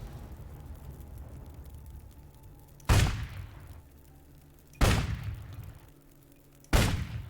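Three loud, sharp gunshots spaced about two seconds apart in a shooting minigame in the video game Risen 2, each crack trailing into a short decay over a quiet ambient background.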